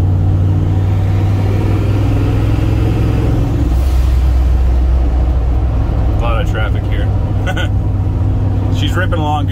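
A turbocharged EFI Ford 460 truck engine on a drive makes a steady low rumbling drone that drops in pitch partway through, with some clicks and rattles later on.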